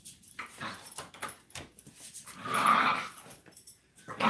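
Two dogs growl and scuffle in play indoors, a run of short rough growls and yips at moderate level that swells louder midway, with no talking over it.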